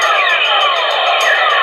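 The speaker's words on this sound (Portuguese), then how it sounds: "E esse é o som do nosso planeta desde o espaço." Sonified signal of planet Earth recorded from space, a dense, loud hiss-like roar with shimmering, swirling tones and faint pulsing higher bursts, steady throughout and free of speech.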